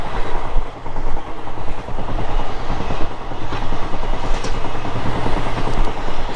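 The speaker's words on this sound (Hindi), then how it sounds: "ट्रेन अपनी पूरी स्पीड पे है।" A sleeper class train in Bihar runs at full speed, giving a loud, dense rumble of wheels on rails with a rapid clickety-clack rhythm. It is heard from inside the coach and carries on steadily, with no talking.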